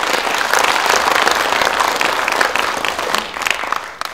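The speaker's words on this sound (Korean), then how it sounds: "여러분 크게 자축의 박수 한번 보내주시기 바랍니다" An audience at a Jeollanam-do cultural center day ceremony in an arts hall breaks into loud, sustained applause, a dense wash of many hands clapping that holds steady before tapering off at the end.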